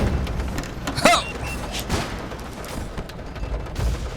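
An explosion goes off in the video game The Swindle, a sharp boom with crackling bursts, followed by further thuds over a busy game background.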